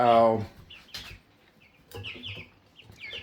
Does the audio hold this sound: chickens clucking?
yes